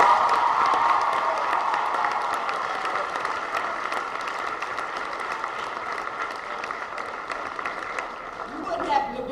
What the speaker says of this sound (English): Let's applaud both teams.